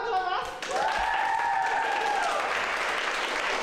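Applause for a group of dancers after a dance recording session, a dense burst of clapping throughout, with a voice talking over it near the start.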